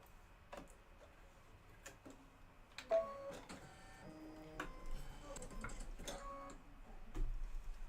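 A computerized embroidery machine quietly stitches a quilt design with a light green thread, producing soft irregular ticking and clicking needle strikes over a faint steady motor hum.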